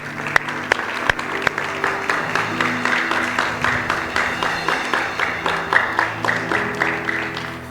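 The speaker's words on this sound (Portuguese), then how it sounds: "Aplauda o Senhor." Congregation clapping through a youth worship service in a church, a steady rhythmic beat of many hands with sharp accents, alongside sustained music and a faint voice.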